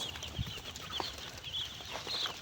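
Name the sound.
chickens on a poultry farm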